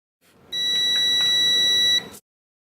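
A multimeter gives a single steady electronic beep about one and a half seconds long while testing soldered wires, clear and close, with nothing else around it.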